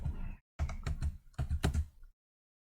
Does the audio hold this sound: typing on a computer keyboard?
yes